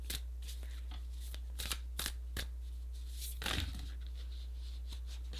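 Tarot cards being shuffled by hand, a series of quick riffling and slapping bursts over a low steady hum, with no talking.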